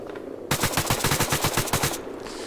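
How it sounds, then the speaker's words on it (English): AK-12 rifle firing a rapid automatic burst of about a dozen loud, evenly spaced shots in the ARMA 3 video game, standing alone for roughly a second and a half against steady background noise. "controlling the rate of fire is the key to using the AK-12, certainly with the reflex sights"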